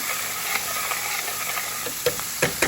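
Sazon seasoning is stirred into a pot of Spanish chicken and rice, giving a low steady sizzle with a few brief scraping taps of a spoon against the pot near the end.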